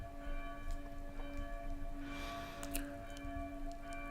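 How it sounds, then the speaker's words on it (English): Church bells ring outside in the distance, faint sustained tones beneath a steady room hum, with a slightly brighter strike partway through. "So there's the church bells outside."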